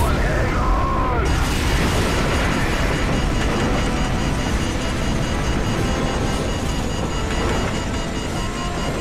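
A nuclear explosion in Call of Duty 4 roars as a sustained, dense low rumble that fills the whole stretch at steady high loudness, a continuous thunderous wash without breaks.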